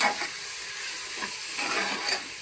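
Fenugreek and spinach hiss and sizzle steadily in hot oil in a pan, a continuous bright frying sizzle with a few soft clicks of stirring.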